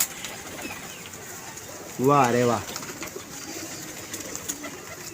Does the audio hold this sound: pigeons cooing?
yes